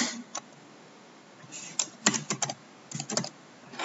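Keys tapped on a computer keyboard, with short irregular bursts of clicks separated by pauses, close and fairly quiet.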